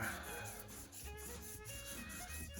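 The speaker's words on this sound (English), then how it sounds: "this is just the last bit of sanding I'm going to do is a little 3000 grit" Soft, steady rubbing of fine 3000-grit sandpaper on a diamond painting pen, a quiet continuous scratching with slight rhythmic strokes, close by and without voices.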